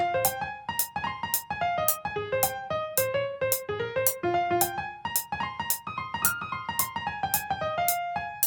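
Bright plucked synth melody from a MIDI pattern for 110 BPM glitch hop, stepping through short notes over a steady pulse of sharp, clicky percussive hits, looping evenly at moderate volume.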